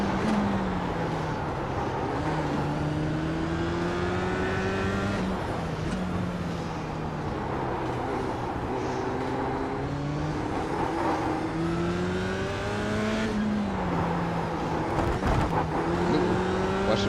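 Porsche 911 GT3 Cup (992.1) race car engine heard from on board, loud and steady, rising through the revs in repeated pulls with quick shifts and drops between gears.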